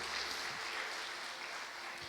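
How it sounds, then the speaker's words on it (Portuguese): A church congregation applauding during a sermon, steady dense clapping from many hands heard at a distance, faint and continuous throughout. "Quem crê, aplaude o Senhor bem forte,"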